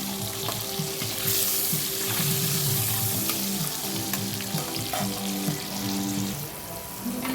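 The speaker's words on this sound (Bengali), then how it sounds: "জিরে ফোড়ন দিলাম আর শুকনো লঙ্কা ফোড়ন দিলাম আর পেঁয়াজটা দিয়ে দিলাম" Cumin seeds, dried chilli and onion fry in hot oil for an egg curry, a steady close sizzle with crackling pops and occasional stirring scrapes throughout, no voices.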